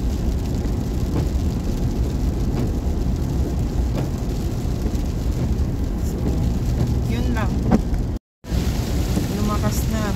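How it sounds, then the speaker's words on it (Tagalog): Heavy wet snow falls on a mountain trail around Helen Lake, giving a steady, rain-like hiss and patter with rumbling wind throughout and a brief dropout near the end. "Lumakas na mga ka-Berks snow. Wet snow pala."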